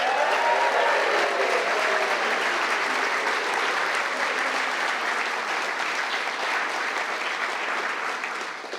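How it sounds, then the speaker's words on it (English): Audience at a library storytelling night in Mill Valley applauding and cheering, a dense steady wall of clapping that stays loud throughout and tapers slightly near the end. "Can we get a big cheer for all of our speakers today?"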